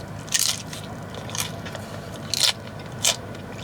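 Crunchy bites into a fast food taco, four or five distinct crackling crunches spaced irregularly, close and fairly quiet against a soft background.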